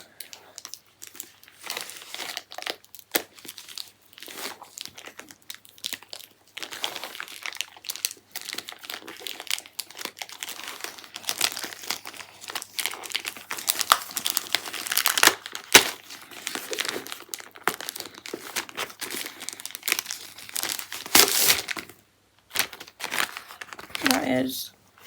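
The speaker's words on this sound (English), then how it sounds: "I need to try and get into this parcel because it's taped up very well." Parcel wrapped heavily in tape and holding books being torn and pulled open by hand, a close, sustained run of crinkling, ripping and crunching packaging noises in irregular bursts, with occasional brief pauses.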